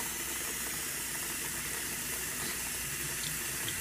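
Water runs steadily from a tap into a kitchen sink that is draining at the same time after being rodded out, a continuous close rushing splash with no voices.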